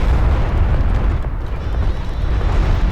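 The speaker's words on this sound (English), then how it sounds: "Barrage lands on the railguns" An artillery barrage lands on railgun units in Homeworld: Deserts of Kharak, making a dense, continuous, loud rumble of overlapping explosions and booms with no clear gaps.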